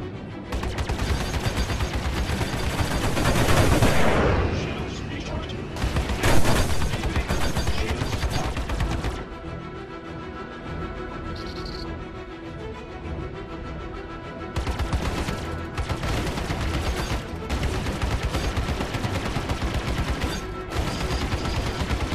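Space combat in the Star Citizen game, with dense bursts of gunfire and missile impacts rolling on loudly and continuously, broken by brief lulls and heavier booming surges.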